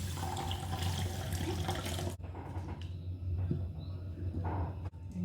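Sago pearls rinsed under running tap water, a loud steady splashing stream into a bowl for about two seconds, then quieter trickling and sloshing as the water is swirled and poured off, close and without talk.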